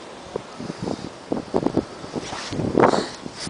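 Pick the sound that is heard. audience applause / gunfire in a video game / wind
wind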